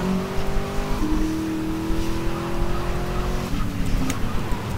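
Race car in GTA Underground drifting, its engine holding a steady whining tone that shifts pitch with gear changes, with tires squealing throughout the close, continuous run.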